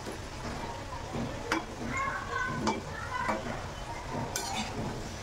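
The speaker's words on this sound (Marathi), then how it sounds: "तर आपले हे समोसे तळून छान तयार झालेत." Pea and paneer samosas frying in hot oil give a steady, broadband sizzle, with a few brief clinks and stirring scrapes, moderately close and with no talking.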